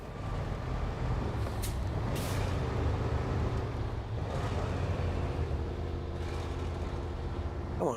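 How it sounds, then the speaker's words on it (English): Truck engine rumbling steadily in the SnowRunner off-road driving game, with two sharp hissing air-brake bursts early on and another softer hiss midway, heard alone without talk. "Come on, truck, follow me."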